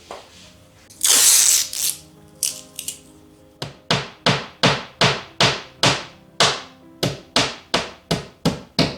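Steady hammer blows, about a dozen sharp strikes at an even rhythm, close and loud, following a burst of rustling and a few scattered knocks.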